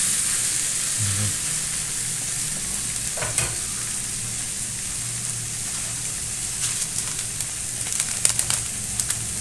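Litson paksiw sizzles and fries in a pan while being stirred, a steady crackling hiss broken by occasional scraping strokes of a utensil against the pan.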